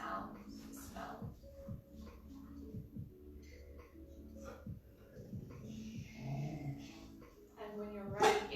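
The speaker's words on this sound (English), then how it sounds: "Those are our chimes, dog barks." A dog barks and growls at a distance behind a quiet indoor yoga class, its low bursts coming in scattered clusters amid faint background noise before a sharper sound near the end.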